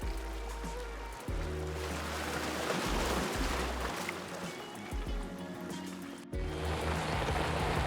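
A boat near Capri pounds into sea waves while approaching a dock, with a steady rush of water and hull noise, low engine thrum and periodic heavier slaps of waves against the hull.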